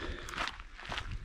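Footsteps of a runner on a woodland trail, a steady close crunching rhythm with faint breathing, no talking.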